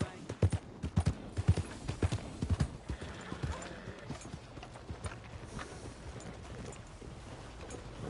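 Horse hooves clip-clopping in a video game, a rapid run of close, crisp hoof beats at first that slows and fades into faint scattered steps, with voices talking over it.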